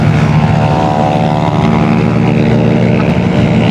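A Yamaha Aerox V3 scooter held at full throttle on a long highway ride makes a loud, constant engine drone. Rushing wind noise runs underneath it, steady from start to finish with no talking.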